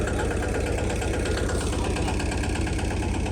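A tractor engine chugs steadily and loudly at idle in a crop field, a constant low rumble with a rapid knocking pulse.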